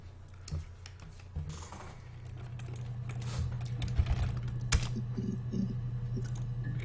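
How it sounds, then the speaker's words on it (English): Keyboard typing during a blind playthrough of the game Her Story, a run of quick irregular key clicks over a steady low hum, moderately close and with no talk. "How am I so poor at typing right about now?"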